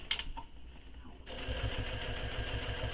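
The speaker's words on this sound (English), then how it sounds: "So I'm just top stitching all the way around right now." A sewing machine top stitching around a handbag, running in a steady, close whir that picks up and continues evenly after a brief pause at the start.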